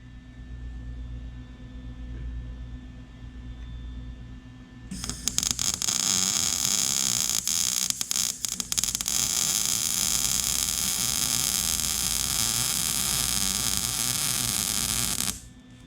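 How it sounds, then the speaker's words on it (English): Welding on the middle section of a Yamaha TT-R125 shift lever: after about five seconds of low hum, a loud, steady crackling hiss starts close by and runs unbroken to the end, with a few brief dropouts near the eighth second. "if I can get in there and weld this middle section"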